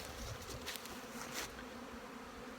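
Dense buzzing of many honey bees flying around their hives during open feeding with sugar syrup, a steady close drone with no talking.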